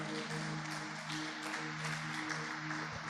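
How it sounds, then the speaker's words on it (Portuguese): Church congregation applauding together, a dense steady wash of clapping lasting about three seconds with a sustained musical hum underneath and no talk. "Você pode aplaudir o Senhor?"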